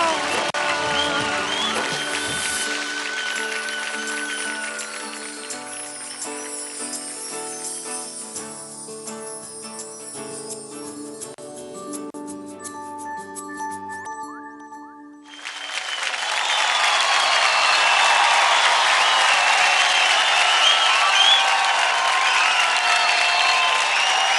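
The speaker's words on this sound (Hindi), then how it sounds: "जोरदार तालियां हो जाए अभिक और उर्वशी के लिए" Audience applause and cheering for dancers Abhik and Urvashi on the Dance India Dance Season 3 TV stage, a loud, dense wash of clapping that swells in after a song fades and carries on steadily.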